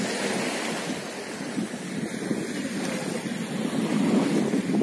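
Waves of the Sea of Azov wash steadily onto the shore at the Arabat Spit under a light breeze, a continuous broadband surf roar with gentle swells and some wind buffeting on the microphone, no voices.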